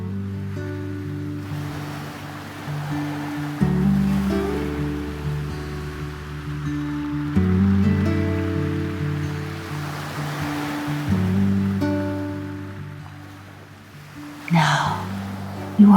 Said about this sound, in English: Now, you are listening to the sounds of waves rolling in from the deep sea